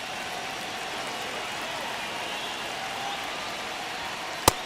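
A baseball crowd at a Red Sox vs Blue Jays game in MLB The Show 25 gives off a steady, distant cheering roar, with one sharp crack near the end.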